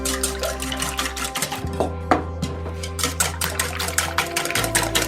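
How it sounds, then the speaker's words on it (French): Egg whites whisked lightly in a bowl for a financier batter: a fast, steady run of light clicking strokes, close and fairly loud, over a low, constant background hum. "on va mettre les blancs, on va les fouetter légèrement"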